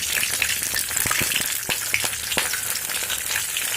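Whole spices fry in hot oil for a vegetarian papad curry, a close, steady sizzle punctuated by sharp pops and spits, loud and continuous with no talk.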